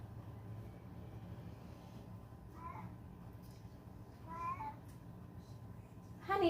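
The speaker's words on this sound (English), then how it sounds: "I do not know what that cat wants." A house cat meowing indoors, three short separate meows spaced a second or two apart, the last one louder and closer, over a low steady background hum.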